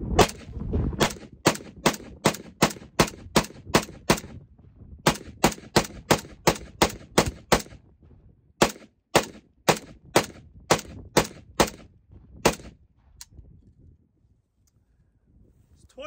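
Zastava M90 AK-47 with a CMC trigger fired outdoors, a string of sharp, evenly paced single shots, about two per second, loud and close with brief gaps and a trailing wind hiss.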